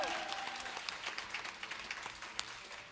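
A live audience applauds after a Song Suffragettes performance, a steady, moderately distant patter of many hands with a few sharper claps standing out, and no clear speech.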